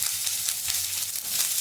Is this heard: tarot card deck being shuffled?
no